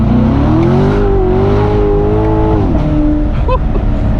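A 2016 Chevrolet Corvette C7 Stingray cruising in third gear, its engine a loud, steady close drone that holds then drops in pitch toward the end, heard from inside the car.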